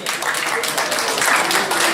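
An audience bursts into applause at a live children's party game, dense, loud clapping filling the whole moment, with voices faintly mixed in.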